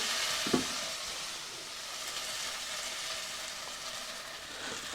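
Chili powder roasts with tomatoes in a clay pot for egg curry, a quiet steady sizzle with a single knock of the spoon near the start.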